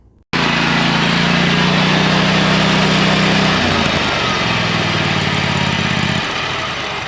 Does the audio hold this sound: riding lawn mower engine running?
yes